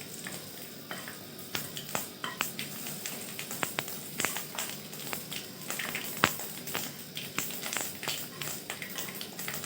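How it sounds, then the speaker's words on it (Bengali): Vegetables, dried curry leaves and broken wheat dalia sizzle and fry in a pan, a steady quiet crackle broken by frequent clicks of stirring against the pan. "সব কিছু ভালোভাবে একটু ভেজে নেব।"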